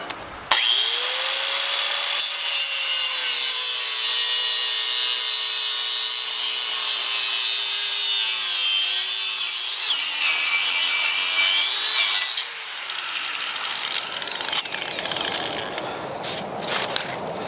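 A 4.5-inch angle grinder cuts through metal with a loud, steady high-pitched whine lasting about twelve seconds, then spins down and trails off into quieter shop noise.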